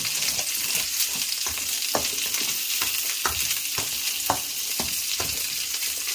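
Kagoshima Wagyu steak frying in a hot pan, a steady dense sizzle with scattered sharper pops and crackles running throughout, close and unbroken with no voices.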